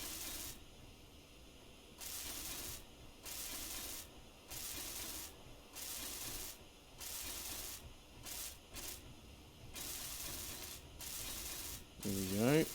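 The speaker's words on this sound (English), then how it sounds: "Now to weld it up." Blocks being welded in the game Space Engineers, a hissing, rasping tool noise in repeated sustained bursts with short pauses between, fairly quiet, ending with a brief voice.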